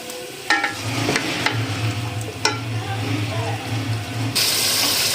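Chicken and egg curry masala sizzles in oil, with a steady low frying hiss and scattered clinks and scrapes of a spoon stirring the pan, close and moderately loud.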